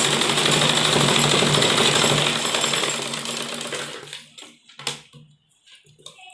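A sewing machine stitches the seam of a churidar pajami in a fast, even mechanical whir for about four seconds, then stops, leaving a few faint clicks and handling sounds.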